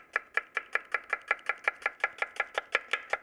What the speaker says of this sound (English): Finely chopped onion